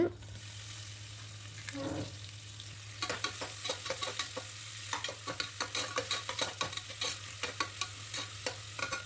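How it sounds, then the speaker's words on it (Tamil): Onions, bay leaf, cinnamon and cloves sauté in hot oil and ghee inside a pressure cooker, a steady sizzle broken by a quick run of sharp stirring scrapes, close and fairly loud, with no voices. "குக்கரில் ஆயிலும் கீயும் சேர்த்து அது நல்லா ஹீட் ஆனதுக்கப்புறம் பட்டை, பிரியாணி இலை, கிராம்பு, வெங்காயம் எல்லாமே சேர்த்து நல்லா வதக்கி விட்டுருங்க."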